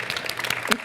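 Brief clapping from an audience at a talk, a short burst of scattered hand claps lasting under a second.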